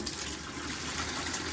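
Water gushes steadily as a steam boiler's McDonnell 67 low-water cutoff is filled and flushed during maintenance, a continuous close rushing pour with no talking.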